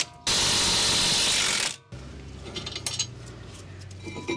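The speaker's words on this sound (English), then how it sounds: "I'm just gonna use this little mid-torque Milwaukee. This is the 2960 with a 17mm socket." A Milwaukee 2960 mid-torque impact wrench with a 17mm socket spins off caliper bracket bolts on the front brakes of a 2015 Toyota RAV4 XLE AWD. It gives one loud, steady burst of about a second and a half, then drops to a quieter mechanical hum.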